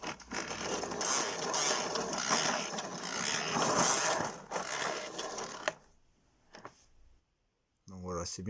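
An automatic reel winds in a 10-metre compressed air hose, a close, continuous mechanical whir and clatter of the spring-driven drum that stops abruptly, then someone speaks.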